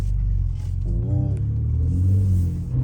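A Ford Raptor's engine rumbles loudly and revs up with the exhaust in Baja mode, roaring with a deep, rising growl that holds steady and strong throughout.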